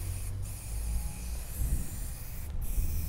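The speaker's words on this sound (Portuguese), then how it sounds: "A gente vai aplicar um prime para proteção da peça e depois vamos jogar uma tinta também em spray." Aerosol primer sprayed onto sink-mounting bracket parts outdoors in a light breeze: a steady, close, loud hiss runs almost the whole time, broken by two very brief pauses, with low wind rumble underneath and no talking.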